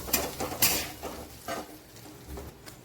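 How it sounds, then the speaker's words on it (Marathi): Cluster beans stir-fried in hot tempering oil give a soft sizzle with scraping and clinking of a spatula against the pan, in several short, uneven strokes. "परतून घ्यायच्या फोडणीमध्ये चांगल्या शेंगा"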